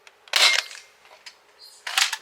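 Adventure Force Deuce Pro toy blaster firing a Dart Zone foam dart, a sharp close pop followed by light clicks and rattles, then a second short burst of mechanical noise near the end, with no talk.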